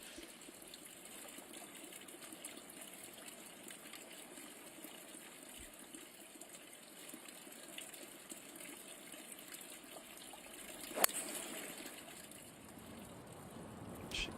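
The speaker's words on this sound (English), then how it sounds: "Certainly hear the creek just to the right." Steady rushing water from a creek beside a golf course fills the scene with a continuous, moderately loud broadband wash and brief louder splashes, with no talk over it.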